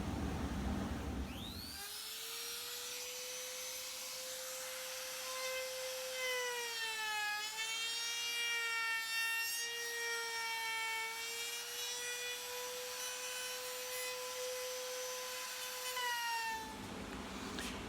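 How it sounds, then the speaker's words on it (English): A router fitted with a 1/4 inch round-over bit runs along the edge of a CNC wasteboard, a loud sustained high whine that spins up, holds steady with slight pitch wobbles as it cuts, then cuts off. "I have the 1/4 inch round over bit. And I'm just going to run that around the perimeter of this wasteboard"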